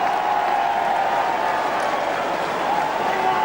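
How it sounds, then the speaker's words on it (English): Football crowd at a Sydney versus St Kilda match clapping and cheering as a player jogs around the boundary, a steady distant roar of applause that holds throughout. "They are up, raised arms, clapping Troy Luff and cheering him as he goes for a run around the boundary."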